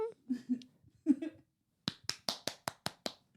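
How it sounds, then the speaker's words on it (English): Someone slaps a hand against their own arm, a run of about seven sharp, fleshy claps in quick succession, close and dry, following a couple of brief voiced sounds at the start. "She got the fat clap."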